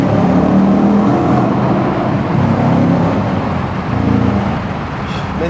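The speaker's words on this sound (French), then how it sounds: "ce rétrogradage, c'est une folie" An Audi RS4 B7 engine revs hard after a downshift, a loud, close, continuous roar that swells and eases slightly while the car keeps moving, with no voices.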